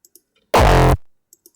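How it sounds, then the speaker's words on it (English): A heavily distorted hardstyle kick drum, its low mids driven for a bouncy punch and the high end crisped separately, hits once loudly and alone, sustaining briefly before decaying, framed by faint ticks before and after. "having a certain kind of distortion in just a frequency range in the low mids can help you get a bouncy sound"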